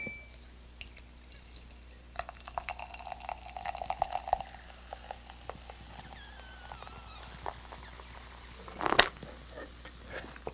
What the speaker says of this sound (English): blowing in, which is going to push this volume of air into the bottle and force the liquid out the straw